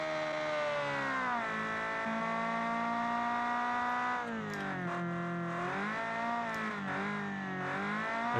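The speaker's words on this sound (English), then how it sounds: "putting a massive exhaust onto a small four-cylinder economy engine" In a racing video game, a small four-cylinder economy engine with a massive exhaust revs loudly and buzzily, holding one steady pitch and then dipping and climbing again in several shifts, with no talking.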